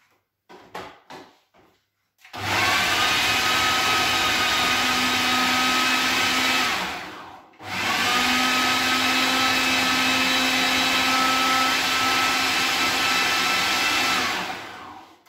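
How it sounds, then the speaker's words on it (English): A food processor blitzes dates and other ingredients in a loud, steady whir that runs for about five seconds, stops briefly, then runs again for another seven seconds, after a few short clicks as the lid goes on. "So we pop our lid on and we're just going to blitz."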